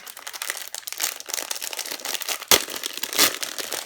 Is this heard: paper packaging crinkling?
yes